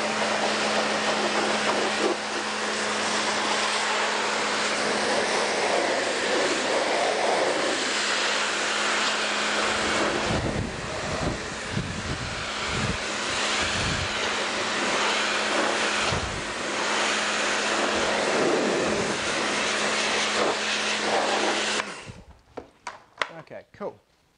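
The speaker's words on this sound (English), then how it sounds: "I'm just going to rinse off this back window" Pressurized water spray rinsing a car's back window during exterior deep cleaning, a steady loud hissing wash running almost continuously with a machine hum beneath, someone talking over it, then cutting off near the end.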